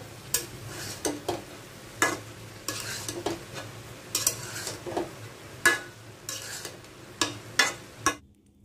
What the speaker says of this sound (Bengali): ভাজিটা একটু লাড়া দিয়ে যাই,